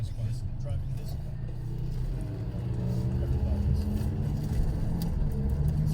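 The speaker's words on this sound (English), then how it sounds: "I'm driving this car." A car drives on a highway, its steady low engine and road drone filling the background while people talk over it inside the cabin.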